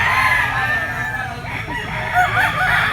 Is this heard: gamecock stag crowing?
yes